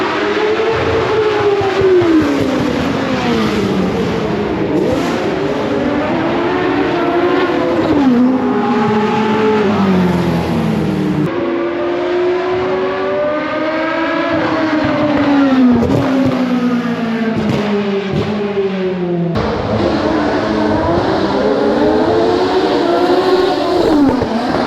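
Race cars screaming by at a motorsport festival in Adelaide, engines rising and falling as they pass in repeated waves, loud and continuous with occasional tire noise and no talk.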